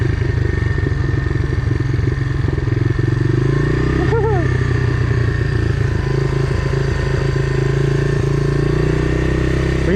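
A Honda Big Red 250es three-wheeler fitted with mud tires runs close by, its single-cylinder engine chugging steadily with a low, even throb and a brief rev partway through.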